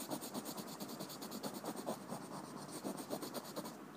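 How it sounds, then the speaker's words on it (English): A pencil shades a face drawing on paper, with quiet, close, rhythmic scratching strokes repeating steadily back and forth for several seconds. "Can you hear the sound of my pencil?"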